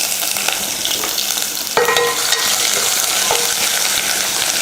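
Curry leaves, crushed garlic and ginger tipped into hot oil in a pan set off a loud, steady sizzle, with a sharp surge of frying as they land and stirring scrapes after.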